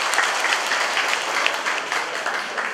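Audience at a Lenten hymn concert in a Vietnamese parish applauds a returning male singer, a steady, dense wash of clapping throughout with no pauses.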